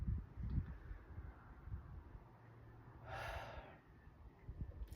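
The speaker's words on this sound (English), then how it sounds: "Take easy breaths here." A person takes one slow, easy breath during a calm relaxation exercise. The single soft, airy inhale is faint and close, surrounded by quiet room noise.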